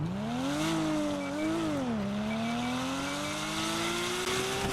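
A car engine drives in the GTA video game, revving continuously as its pitch climbs, dips and rises again while the car accelerates, loud and close with no one speaking.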